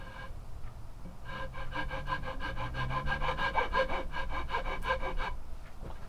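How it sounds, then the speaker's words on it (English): Round, rough rasp file worked along a wooden walking stick, giving repeated rhythmic scraping strokes, close and fairly loud, with no voices. "with a round, rough, rasp file, I'm going to start where this line is here"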